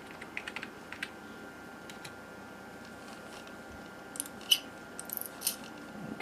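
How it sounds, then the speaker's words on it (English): Sparse, light key clicks from an Apple iMac G3 keyboard, tapped in a few scattered bursts over a quiet room hum, with no talking. "Guess I'm able to type my name though."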